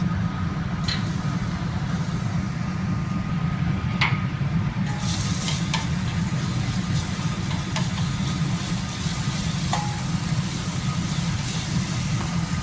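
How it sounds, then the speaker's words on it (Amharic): Oil heats in a frying pan with ground garlic added, giving a continuous close sizzle at a steady level. A few sharp clicks and pops break through, and no one talks. "መጥበሻው ጋር ዘይቱን ጨምራለሁ"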